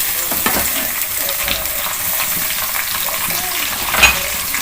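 Chopped tomatoes tipped into browned onions frying in a pan for a phaliyan gosht curry, giving a steady loud sizzle with stirring clatter and a sharper hiss near the end.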